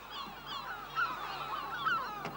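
Colony-nesting birds call continuously over old salt marshes, a dense overlapping chorus of harsh honking cries at a steady moderate distance with no pauses.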